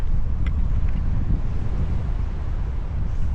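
Wind roars across the microphone during a paragliding flight, a loud, steady rushing buffet that fills the whole stretch with no pause and no voices.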